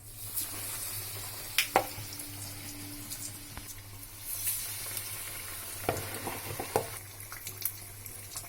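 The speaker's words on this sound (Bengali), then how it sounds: "দেখুন আমি এগুলো বেসনে ডুবিয়ে এবার আমি ডিপ ফ্রাই করে নিচ্ছি।" Bread slices dipped in besan batter deep-frying in hot oil, a continuous crackling sizzle with scattered sharp pops and spatters, close and fairly loud.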